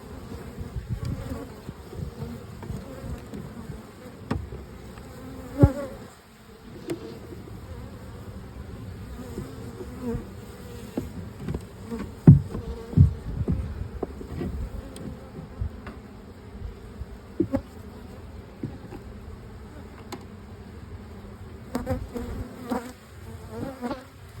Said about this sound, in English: So here we have Oliver's hive now treated for mites